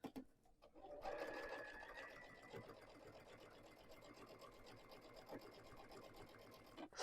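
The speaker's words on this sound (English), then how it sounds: "Sew it down." A sewing machine stitches down quilt binding in a steady, close, continuous mechanical whir that runs almost without a break after a short quiet start, with no talking.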